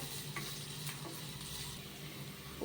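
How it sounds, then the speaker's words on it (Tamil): Sliced onions sautéing in a pan for chilli chapati, a faint, steady sizzle with soft stirring scrapes, quiet and continuous without any voices. "வெங்காயம் நல்லா லைட்டாக ப்ரௌனிஷ் ஆகிற வரைக்கும் நல்லா வதக்கிக்கோங்க"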